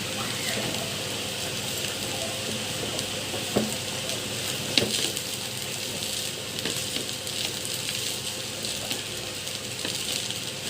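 Restaurant-style fried rice with marinated meat is stirred in a pan over high heat, giving a steady, loud, close sizzle with occasional scraping clicks throughout.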